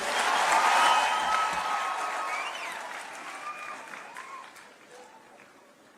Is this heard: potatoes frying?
no